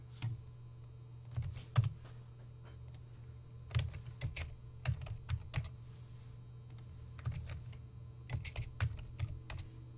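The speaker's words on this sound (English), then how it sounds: "having some trouble here typing" Irregular bursts of clicky keystrokes on a computer keyboard, close by, with pauses between flurries and a low steady hum underneath.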